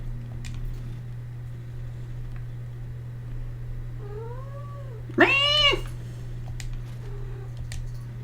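A domestic cat gives a single drawn-out, rising and falling meow, preceded by a fainter short cry, over a constant low electrical hum.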